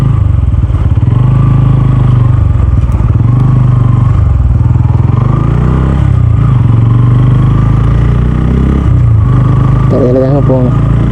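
A Bajaj-style N160 motorcycle being ridden, its engine droning loudly and steadily close by with rising and falling pitch as it accelerates and eases off, while a voice talks over it.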